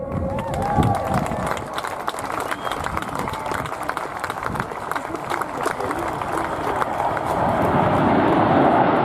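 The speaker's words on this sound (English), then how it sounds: "Let's have a huge round of applause for Great Britain, everybody" A crowd of spectators applauds at the RIAT 2016 air show during the Red Arrows display, a steady, dense outdoor patter of clapping that swells slightly toward the end, with voices mixed in.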